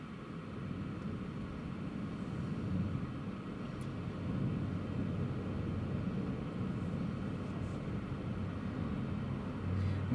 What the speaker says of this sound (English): Right, here comes the Eastern Airways.